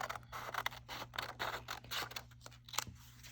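Scissors snip through origami paper in a quick run of short, close, crisp cuts, fairly quiet and with no talking.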